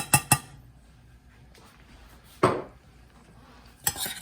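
A spoon stirs ground coriander into molokhia, a Middle Eastern stew, in a pot, giving two quick clinks at the start, another scrape midway and a final cluster of clanks against the pot, with quiet gaps between.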